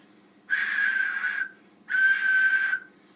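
A resin pigeon flute whistle sounds twice, each a steady bright tone lasting about a second with airy overtones, close and clean against near silence.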